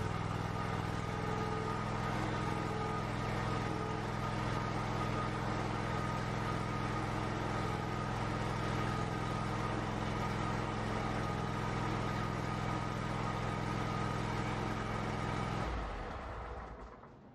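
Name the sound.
Kohler gasoline EFI engine started and running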